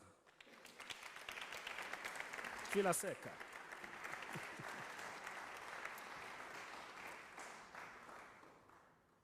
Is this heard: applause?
yes